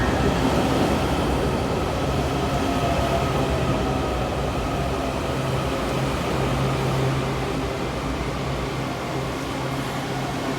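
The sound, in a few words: Red Line metro subway train arriving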